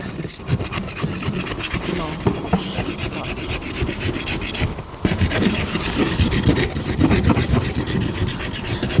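A rasp scrapes grooves into a horse's hoof wall, ahead of fitting a wooden shoe with cast and glue; the fast, rough strokes are continuous and close, with a short pause midway.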